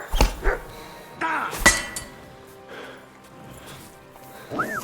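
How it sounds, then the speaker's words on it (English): A dog in Kingdom Come Deliverance 2 gives a few sharp barks and snorts at close range, mixed with clinking and scuffling game sounds, with no speech. "Fucking dog."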